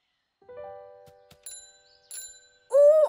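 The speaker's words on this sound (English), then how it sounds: "T thinks his bike might go faster if he had a bell like Lily's" Cartoon bicycle bell in a children's episode about bikes, a few short bright tinkles and rings with soft bits of music between, closing on a louder, longer ring at the end.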